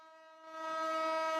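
A Philippine railway passenger train sounds a sustained horn, the tone starting moderately and swelling louder and fuller after about half a second, with no voices.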